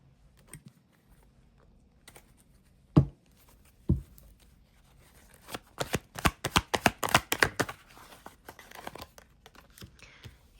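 Tarot cards being shuffled close-up: a couple of isolated taps, then a rapid flurry of crisp riffling clicks and slaps, quiet and near with no talk.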